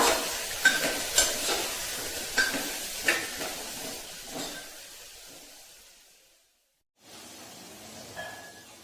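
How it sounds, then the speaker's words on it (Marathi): Onion and spice powder mixture for masale bhat being sautéed in a pan, a steady frying sizzle broken by regular scraping stirs, close, with a brief pause before the sizzle resumes and no talking. "आता हे सर्व मिश्रण एकदम व्यवस्थित परतून घेऊया"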